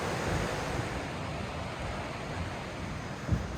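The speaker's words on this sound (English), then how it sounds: "A pleasant autumn evening, the sound of the river, the sunshine blinding me" A river in the Goyt Valley on an autumn evening, a steady broadband rush of flowing water that holds constant throughout, with no voices over it.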